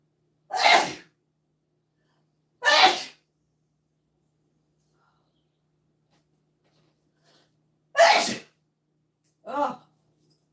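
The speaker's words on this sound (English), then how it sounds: "The great sneeze-a-thon." A person sneezes four times in a row, each sneeze a sharp, loud, close burst separated by a few seconds of near silence, the last one slightly weaker than the others.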